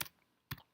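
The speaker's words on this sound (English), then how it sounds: "So I'm typing some proportions in here." Two faint, brief clicks of keys on a computer keyboard during typing, separated by a short pause.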